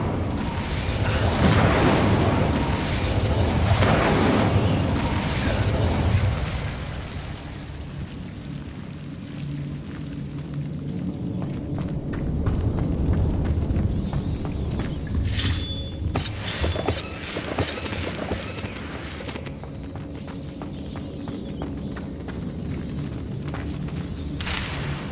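Confringo and Incendio spell explosions in Hogwarts Legacy, a loud rumbling blast and fiery roar early on, followed by crackling debris and sharp shattering bursts that fade into a lingering crackle.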